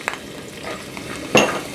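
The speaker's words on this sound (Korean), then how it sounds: "마늘 향을 내기 위해서 마늘을 살짝 볶아줍니다." Garlic stir-frying in a generous amount of sunflower oil for a Korean side dish, a soft steady sizzle with light utensil scrapes and one louder stir near the end.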